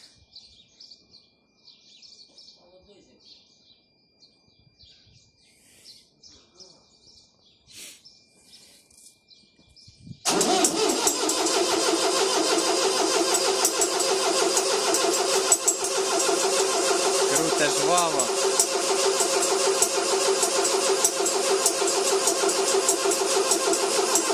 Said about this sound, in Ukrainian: Заводиться він швидко, це просто коли паливо не подавати, то він довго.